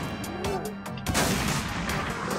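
Gunfire in the zombie video game Orbiz: a few quick shots at the start, then a louder burst around the middle, with faint voices underneath.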